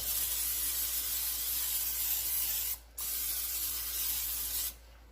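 A steady hiss of butter-flavoured cooking spray from an aerosol can, sustained for several seconds with two brief breaks, close and fairly loud.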